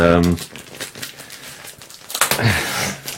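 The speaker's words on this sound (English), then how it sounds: "in his absence what I'm going to do is unwrap it for him" Wrapping paper crinkles and tears as a wrapped gift is opened during a talk show, bursts of crumpling under and between people talking.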